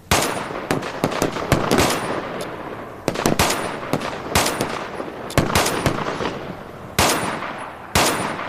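Rapid bursts of loud gunfire at a shooting range target 100 metres away, repeated volleys of sharp cracks in quick succession, close and dominant throughout.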